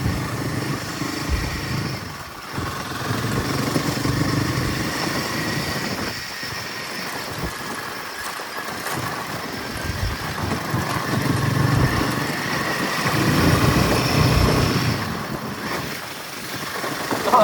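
A motorbike engine runs steadily through an off-road ride beside a river, a continuous rumbling drone that swells and eases with throttle, with wind and road noise around it.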